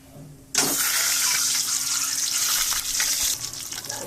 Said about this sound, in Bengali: এদিকে আমি তেল দিয়ে দিয়েছি ডিমগুলো ভেজে নেব